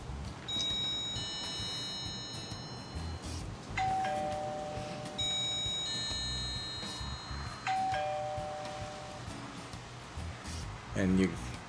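A Lockly Vision Elite video doorbell chimes twice when pushed, each press giving a clear multi-tone electronic ding-dong in a quiet room, with a softer tone following each chime.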